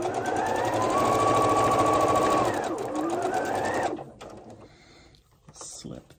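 A sewing machine stitches fabric for a chevron quilt, running in a fast, steady mechanical rattle for several seconds before stopping, followed by quieter handling sounds and fabric rustle.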